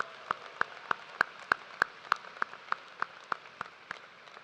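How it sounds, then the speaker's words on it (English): Single pair of hands clapping in an evenly spaced rhythm at the University of Toledo undergraduate commencement ceremony, about fourteen crisp claps, fairly faint and close, with no talk. "Let's give them a round of applause for everyone who helped to make this a celebration to remember."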